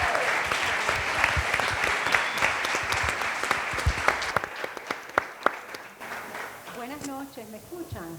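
Loud, dense applause from a conference audience welcoming speakers to a panel on building a global music artist. The clapping thins into scattered claps, and a voice starts speaking near the end.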